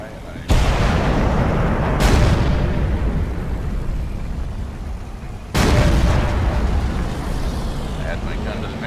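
In World of Tanks, an IS-2 tank gun fires heavy booming shots, three close blasts with long rumbling decays, under a continuous rumble of battle noise and some talking.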